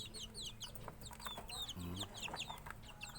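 White Leghorn chicks, 21 days old, cheep in rapid overlapping high chirps, close and busy, with a brief low voice partway through.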